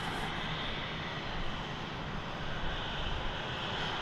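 An American Airlines jet approaching DFW Airport produces a broad, steady engine roar that stays constant throughout, heard from outdoors with some wind, no speech.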